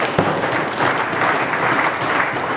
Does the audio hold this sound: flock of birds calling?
no